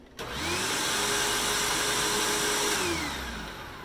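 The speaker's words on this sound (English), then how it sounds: "we're going to flip it up and give it a test and make sure our brush roll still spins" Hoover Windtunnel Self Propelled vacuum cleaner tipped back and running with its brush roll spinning, a loud steady motor whine that starts abruptly, holds level, then begins winding down near the end.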